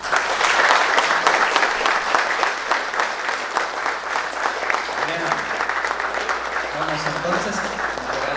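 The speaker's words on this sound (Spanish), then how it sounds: "Fuerte el aplauso." Steady, dense applause fills a wedding hall as newlyweds are introduced as a new family, the clapping holding loud and unbroken throughout while voices come through beneath it toward the end.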